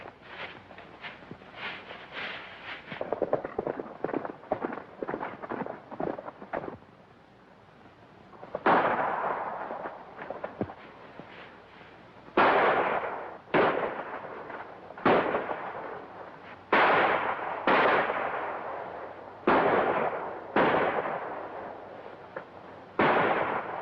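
Gunshots in a 1938 western film, a burst of rapid reports followed by single loud blasts spaced a second or two apart, ringing out with no speech.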